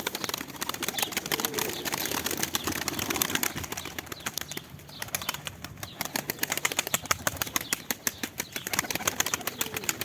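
Turtle doves flap their wings close by in a rapid, continuous fluttering beat, with busy rustling bursts and a few soft bird calls around them.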